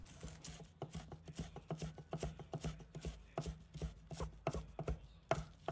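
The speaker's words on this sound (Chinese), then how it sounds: "准备一把葱叶，把它切成丝。" A knife shredding scallion leaves on a cutting board, rapid close chopping taps in an even, quick rhythm, fairly quiet with no talking.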